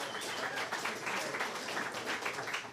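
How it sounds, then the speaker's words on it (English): Audience applause at a September 11 memorial address in Manhattan, a dense steady wash of clapping from a crowd, sustained at even loudness with no speech over it. "So I think it's very appropriate to applaud ourselves and yourselves"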